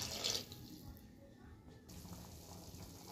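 Water poured into a pan while cooking upma, a soft, steady splashing hiss lasting a couple of seconds before fading to quieter background; faint and close, with no clear talk over it.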